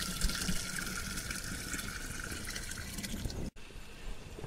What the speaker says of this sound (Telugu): పెట్టిన తర్వాత మనకు ఇట్లా 10 లీటర్ల నీళ్లు పోసుకోవాలి కుండ